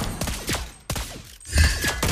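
Gunshots from the hero Lesley in the mobile game Mobile Legends, a burst of sharp cracks and thumps repeating at an uneven pace over continuous game sound, loud and close.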